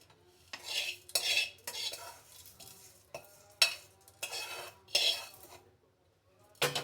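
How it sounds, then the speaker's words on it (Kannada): Cooled cooked mixture spooned into a mixer grinder jar, a series of close metallic scrapes and clinks in irregular bursts separated by short quiet gaps, no talk. "ಇವಾಗ ಇದು ತಣ್ಣಗಾಗಿದೆ, ಹಾಕ್ಕೊತಿದ್ದೀನಿ ಜಾರಿಗೆ."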